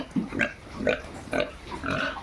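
Farm-raised pigs grunt close by in four short, evenly spaced bursts, with a steady low background between them and no voices.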